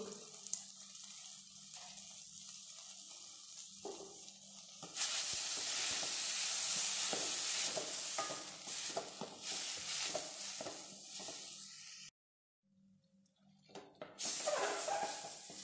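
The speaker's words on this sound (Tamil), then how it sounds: "தக்காளி நல்லா வதங்கிடுது மீடியமாக வச்சு வதக்குனேன்" Tomatoes sautéing in a pan for sambar, a steady close sizzle with stirring scrapes, louder after a few seconds and briefly cut off near the end.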